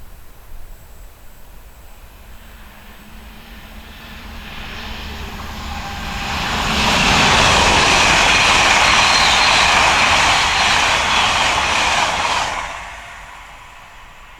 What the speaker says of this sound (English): LNER Azuma 800-103 turns up with a Perth